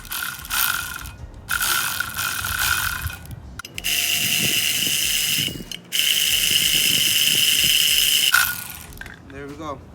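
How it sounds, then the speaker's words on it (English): A power wrench drives a 1/2 inch bolt into a cedar pergola frame outdoors, whirring in several sustained loud bursts separated by brief pauses, with a person speaking around it. "Ours is a 1/2 inch bolt, so we got this power wrench."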